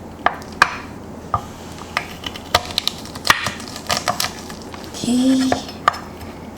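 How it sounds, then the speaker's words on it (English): Knife chopping garlic on a cutting board while making a spicy gochujang beef and vermicelli stir-fry, giving scattered sharp taps at an irregular pace with a few clinks of kitchenware; a voice speaks briefly. "Then you just chop."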